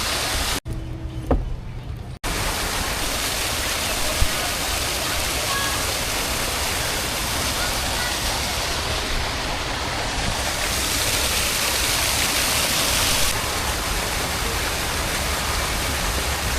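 A fountain at Topkapi Palace in Istanbul gushes with a loud, steady wash of splashing water, cut off briefly near the start before the full rush returns and holds without pause.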